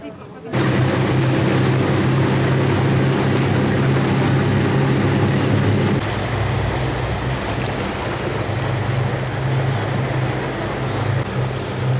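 A boat engine drones loudly and continuously on the Grijalva River in Sumidero Canyon, Mexico, with rushing water and wind noise across the microphone throughout.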